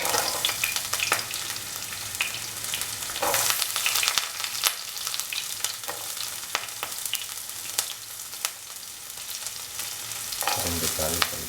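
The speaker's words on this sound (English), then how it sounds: "into the oil once it gets heated. Put in the onions." Onions sizzle steadily in hot oil for a village-style pumpkin, pea and minced mutton stew, a continuous crackling hiss broken by occasional stirring scrapes, close and loud with no talking.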